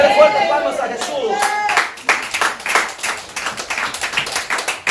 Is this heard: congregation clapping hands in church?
yes